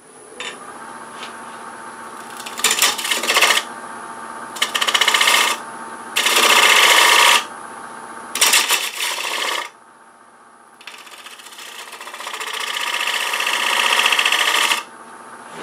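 A pine stool leg spins on a wood lathe while a bowl gouge rounds its profile, giving several loud bursts of hissing, scraping cuts separated by the quieter hum of the lathe, with one long cut near the end.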